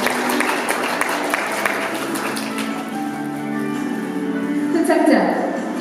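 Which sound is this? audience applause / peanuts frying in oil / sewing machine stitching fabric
audience applause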